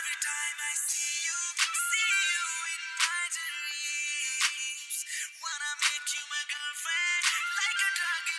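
Electronic phone ringtone of an incoming call plays continuously for about eight seconds, a bright melodic tone pattern repeating with steady rhythm, fairly loud and alone with no talking.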